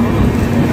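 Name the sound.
train halting at Sevagram Junction station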